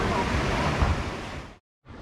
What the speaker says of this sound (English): Now look at the waves forming at the Dreamland Beach.